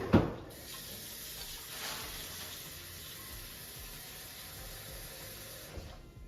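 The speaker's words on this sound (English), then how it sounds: "Just add some water." Water runs steadily from a tap into a bowl, a continuous hiss and splash that begins with a knock and stops near the end.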